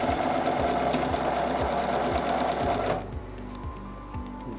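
A sewing machine stitching quilt fabric runs fast and steady, with a clear repeating mechanical thump, forward then backward, briefly changing pitch midway as the stitching continues without any talk.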